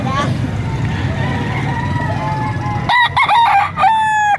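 A rooster crows loudly twice near the end, its harmonic call cutting through steady background chatter and low traffic rumble at a chicken market in Lipa, Batangas, Philippines.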